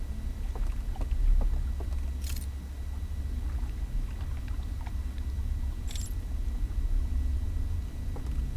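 A boat moving through water in the video game Outer Wilds: a steady low rumble and wash with faint splashes and a couple of brief bright ticks, continuous throughout with no talking.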